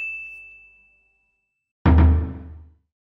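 A single bright bell ding rings out clearly, followed by a silent gap and then a loud, short burst of noisy impact sound.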